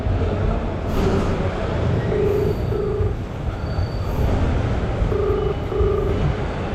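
A train rumbles along continuously and loudly, with a dense roar of wheels on rails and several brief high squeals and tones breaking through, no talk over it.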